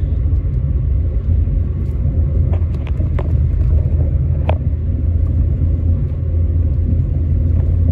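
A car coasts downhill without throttle on the winding mountain road from Cloudcroft to Alamogordo, New Mexico, a steady loud low rumble of tires and road noise with a few faint clicks and no voices.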